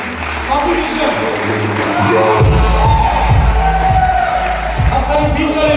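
An audience at a festival at Liaquat Memorial Library claps and cheers loudly, a dense wash of applause with scattered whoops that swells after a moment and continues steadily, with a voice over it.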